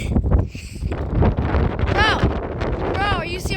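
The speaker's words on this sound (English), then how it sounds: "Bro, the wind is about to get insane." Strong wind gusts roar and buffet the microphone on a windy day, with a steady low rumble throughout and brief high whistling or squealing sounds near the end.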